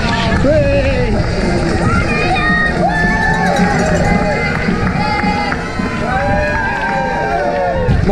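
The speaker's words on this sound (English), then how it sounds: "My father-in-law there cheering me on." Spectators shout and cheer for runners at the Coventry Half Marathon in the rain, a loud, dense crowd noise with whoops and calls that carries on throughout.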